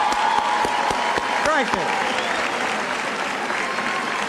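A large election-night crowd applauds the governor, a loud, dense, sustained roar of clapping with sharp individual claps near the start and a voice briefly speaking over it.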